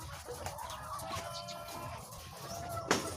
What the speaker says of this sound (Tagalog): ito yung manukan o poultry ng aking pinsan